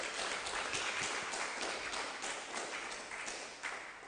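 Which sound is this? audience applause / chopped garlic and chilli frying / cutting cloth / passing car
audience applause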